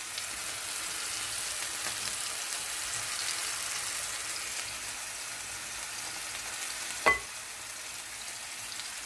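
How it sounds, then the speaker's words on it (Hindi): Onions and kebabs browning together in a pan make a continuous, even sizzle, like a light hiss of rain, with one brief knock near the end. "हमारे प्याज भी जो है वो ब्राउन हो रहे हैं, देख सकते हैं। और कबाब भी बन रहे हैं साथ साथ।"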